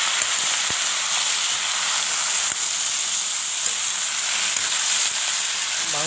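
Pumpkin and potato pieces fry in a pan with chicken, giving a loud, continuous close sizzle and hiss with faint occasional stirring clicks and no talk.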